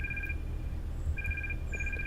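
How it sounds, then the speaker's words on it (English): A mobile phone ringtone sounds from inside a pocket, repeating short electronic double-tone bursts over a steady low background rumble. "You hear bewilderment tone coming from Fred's pants."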